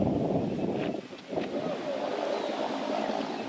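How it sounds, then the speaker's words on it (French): Strong wind roars steadily during a bushfire near a house in a remote tribal area, a loud broadband rush that briefly dips around the one-second mark before surging back and holding. "Le vent fort pousse dangereusement le feu vers la maison"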